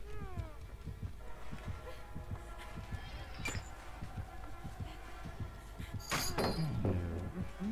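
A cat meows in the horror game Dead by Daylight: a series of close, rising mewing cries over a busy game backdrop of thumps and chimes, with a louder cry near the end.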